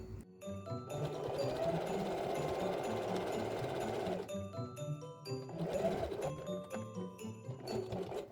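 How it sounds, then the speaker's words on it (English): A sewing machine stitches along the edges of folded fabric tie strips, running in a steady fast whirring rattle for about three seconds, pausing briefly, then starting again, fairly quiet and close. "I'm going to sew along the entire perimeter of those strips."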